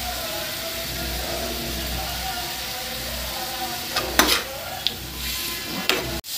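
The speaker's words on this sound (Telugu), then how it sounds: "ఇందులో కొంచెం పుదీనాలు కొత్తిమీర వేస్తున్నాను" Gobi 65 with mint and coriander added keeps up a steady, even sizzle in the pan, then several sharp scraping stirs and utensil knocks come near the end.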